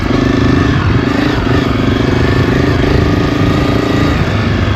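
Honda CRF250F trail bike engine running steadily at a near, loud, even drone with a constant low rumble, no voices.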